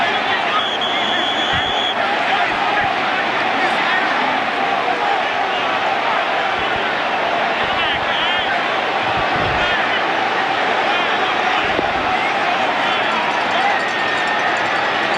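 A large NFL stadium crowd roars continuously and loudly as a touchdown-or-touchback call is made, with a commentator's voice over the dense, sustained din.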